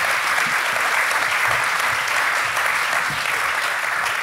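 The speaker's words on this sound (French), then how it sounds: "je crois qu'on peut les applaudir" Sustained applause from an audience at an evening book event on mountain guides, a dense steady wash of many hands clapping throughout, no voices.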